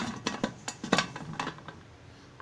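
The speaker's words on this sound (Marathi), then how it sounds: "आता मी कुकरचं झाकण लावत आहे" A metal pressure cooker lid is fitted and locked in place, a series of close, sharp metallic clinks and scrapes, about eight quick knocks, then quiet.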